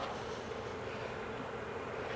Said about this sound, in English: Showing you guys the bees.